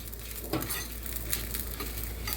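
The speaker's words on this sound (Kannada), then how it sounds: "ಜೀರಿಗೆ ಒಂದು ಹತ್ತು ಹತ್ತರಿಂದ ಹನ್ನೆರಡು ಮೆಂತ್ಯ ಮೆಂತ್ಯದ ಕಾಳು ಹಾಕ್ಕೊಂಡಿದ್ದೀವಲ್ಲ ಇದೆಲ್ಲ ಹುರಿಯೋಕ್ಕೆ ಶುರು ಮಾಡಿ" Cumin and fenugreek seeds roast in a pan for an Udupi-style sambar, making a soft, close crackle with occasional scraping stirs over a steady low hum, and nobody speaks.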